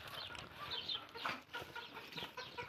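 Chickens clucking in a coop where eggs are laid, a busy cluster of soft calls close by over faint background noise.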